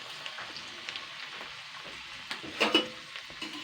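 Okra (bhindi) pakoras fry in oil over a medium-low flame, giving a faint, steady sizzle and crackle with a few louder pops near the end.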